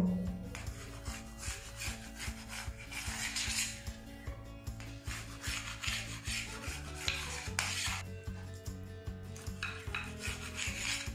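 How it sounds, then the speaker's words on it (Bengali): A knife scraping and slicing a cooled omelette into shapes on a board, with quick rhythmic strokes repeating close up over a faint steady background tone. "এদিকে অমলেটটা কিন্তু বেশ ঠান্ডা হয়ে গেছে, এবার আমি এগুলো কেটে নেব।"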